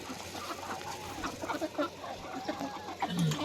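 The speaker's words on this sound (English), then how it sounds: "Now, these chickens are pretty good size." Good-sized chickens, mostly hens, cluck and murmur nearby in a flock, a quiet, continuous chorus of soft overlapping clucks with no talking.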